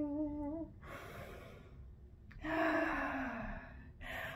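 Deep breaths during a yoga session: a drawn-in gasp-like inhale, then long airy exhales and another strong breath, close and fairly loud with no talking.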